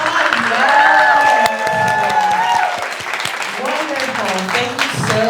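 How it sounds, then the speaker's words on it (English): An audience at a CreativeMornings Chicago talk breaks into loud, sustained clapping and some cheering, with a voice speaking over the applause. "Give her a round of applause."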